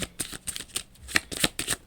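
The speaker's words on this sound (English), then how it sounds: "I like to shuffle on screen so you all can see that I'm not making things up." Tarot cards are shuffled by hand in quick, crisp riffling bursts with short pauses between them, close and fairly loud with no talking.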